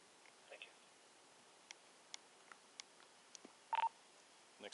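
A telephone being dialed by a police officer during a bodycam-recorded arrest, with sparse, faint key beeps and clicks spaced irregularly, one longer tone near the end, in an otherwise quiet setting.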